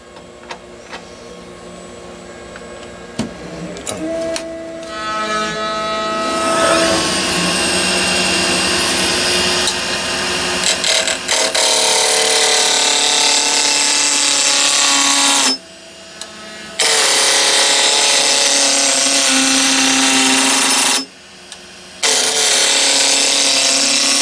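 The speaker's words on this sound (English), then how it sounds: "let's start with a roughing gouge. And I'm just going to take these edges off," Wood turning on a lathe with a roughing gouge taking the edges off a blank, a loud steady motor whine with tonal harmonics and continuous cutting noise, briefly dropping out twice, close and alone.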